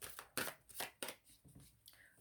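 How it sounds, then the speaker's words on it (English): Tarot cards are shuffled by hand, quiet riffling bursts in an uneven rhythm, close and soft. "I'm going to just shuffle again because those were the cards"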